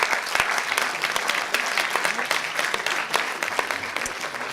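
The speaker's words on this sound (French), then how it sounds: "Vous pouvez l'applaudir." An audience at a French doctoral thesis-in-180-seconds contest applauds steadily, dense overlapping claps filling the hall from start to finish with no talk over it.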